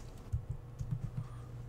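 Keys on a computer keyboard are pressed in a short, irregular burst of soft clicks while logging into a server at a command prompt, close and fairly quiet with no talk.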